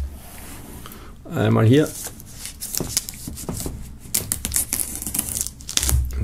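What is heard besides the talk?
peeling plastic wrap off a Sido box set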